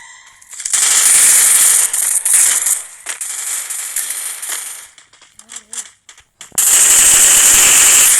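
MP5 gunfire in the Free Fire Max video game, loud sustained bursts that break into scattered shots and stop briefly before a final heavy burst, with faint game sounds in the gaps.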